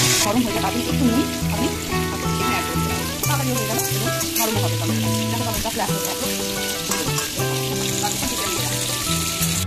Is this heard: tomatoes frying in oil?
yes